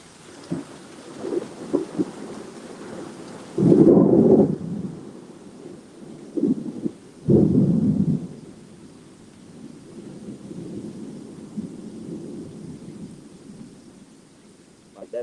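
Thunderstorm with steady rain hissing throughout while deep rolls of thunder rumble in two heavy bursts and several softer grumbles, the storm sounding near and loud, with a voice faintly present.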